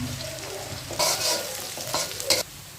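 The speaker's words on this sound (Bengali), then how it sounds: "রসুন দিচ্ছি, একটু পেঁয়াজ দিচ্ছি, তারপর তেলের মধ্যে একটু মরিচ দিয়ে দিলাম" Garlic, onion and chili frying in oil in a pan, a close steady sizzle with bursts of spoon stirring near the middle and end, and no voices.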